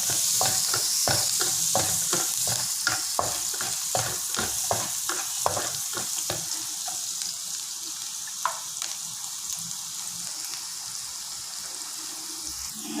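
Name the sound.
garlic frying in a pan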